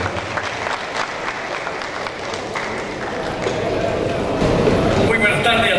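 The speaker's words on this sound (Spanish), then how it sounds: "con un aplauso de los presentes también" An audience at an agricultural show seminar applauds with dense, steady clapping that swells louder toward the end.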